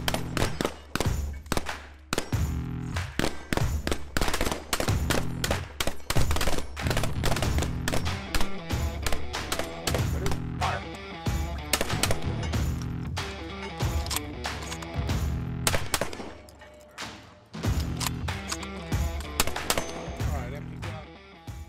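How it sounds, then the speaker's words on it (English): A Mossberg 940 JM Pro semi-automatic shotgun fires slugs in rapid, loud bursts of booming shots with brief pauses between strings, sustained across the whole stretch outdoors. "One thing of note on shooting slugs."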